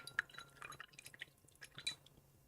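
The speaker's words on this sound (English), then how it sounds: "Amazing sounds of" Water drips and trickles from a wet watercolor brush during a sky and clouds painting session, giving a string of small, close, irregular droplet taps and splashes with no talking.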